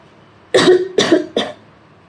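Three harsh chesty coughs from someone with a cold, close and loud, spaced about half a second apart, the last one shorter.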